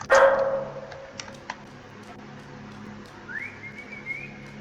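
A dog in the video game Lost in Vivo gives a sharp bark at the start, followed by a couple of softer sounds and then a rising, sustained whistle tone.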